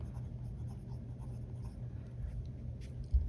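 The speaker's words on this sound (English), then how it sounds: "I'm going to be doing my writing sample in my Hobonichi notebook, which has Tomoe River paper" A Leonardo Officina Italiana Memento Zero fountain pen with an extra fine nib writes on Tomoe River paper in a Hobonichi notebook held in a leather A5 cover, giving faint, continuous soft scratching close by.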